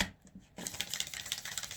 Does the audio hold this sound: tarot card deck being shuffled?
yes